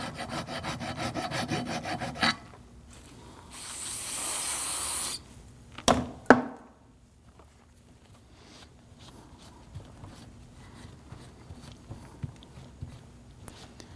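Rust being rubbed and scraped off rear brake parts on a 2013-2019 Ford Police Interceptor Utility, with rasping strokes at the start, a steady hiss midway, then sharp clanks and quieter intermittent scraping.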